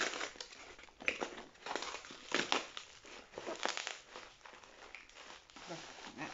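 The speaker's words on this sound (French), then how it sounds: "je vais déchirer, mais c'est tellement bien emballé" Well-sealed packaging wrapping is torn open and crinkled, with repeated crackling rips and rustles close by, while a person talks throughout.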